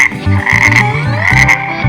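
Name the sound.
frog croaking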